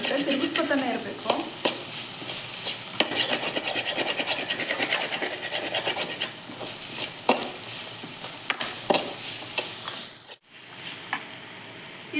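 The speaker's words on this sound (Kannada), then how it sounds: "ಮತ್ತು ಮಿಕ್ಸ್ ಮಾಡ್ಕೋಬೇಕು. ಬೇಗ ತಳ ಹಿಡಿದ್ಬಿಡುತ್ತೆ, ತಿರುಗಿಸ್ಕೊತಾನೆ ಇರಬೇಕು" Chickpea usli being stirred in a frying pan, with a steady close sizzle and repeated scraping and rubbing of the spoon against the pan, briefly cutting out near the end before resuming.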